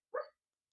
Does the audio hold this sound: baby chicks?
no